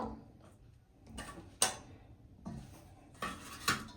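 Potato pieces drop into a clay cooking pot with a few soft knocks and sharper clinks, close and quiet, separated by near silence.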